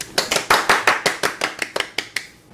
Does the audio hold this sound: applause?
yes